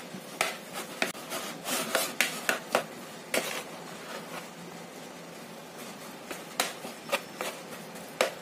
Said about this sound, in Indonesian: Ini kita tekan-tekan sampai halus ya.